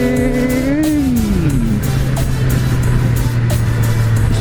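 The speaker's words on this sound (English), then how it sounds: "Traffic is crazy." Busy road traffic heard from a 2018 Triumph Street Triple RS 765 motorcycle: a loud, steady engine drone with a pitch that rises and drops as the bike revs, close and continuous.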